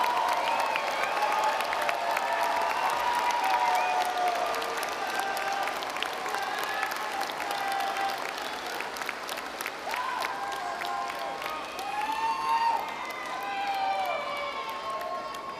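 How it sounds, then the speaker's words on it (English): Standing audience applause and cheering at a National University commencement ceremony, a loud sustained wash of clapping with whoops and shouted cheers rising and falling across the hall for the full length. "let's give them a big round of applause."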